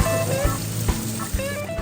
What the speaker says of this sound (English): Add the minced garlic and slice sun-dried tomatoes to the cooker. Let them cook for about 1 minute